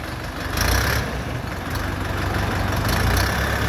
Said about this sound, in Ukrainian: Відвантажуємо черговий Донфен 404 вже другий з кабіною.